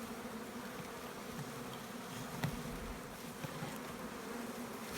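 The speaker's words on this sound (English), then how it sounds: "Box of bees." Honey bees buzzing in a nuc box in March, a steady, even hum at low volume with a few faint knocks and no talking.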